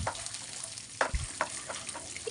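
Whole spices tempering in hot oil for raw mango pulihora, a steady close sizzle and crackle with a few sharper pops and stirring scrapes, no talking.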